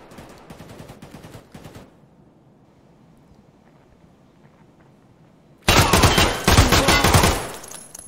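Gunfire from the video game Escape from Tarkov sounds as a brief sharp volley at the start, then near quiet, then a loud sustained burst of rapid shots near the end.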